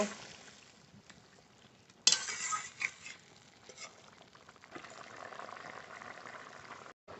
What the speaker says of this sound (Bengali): মাছ আর একটু জাল দিয়ে নেব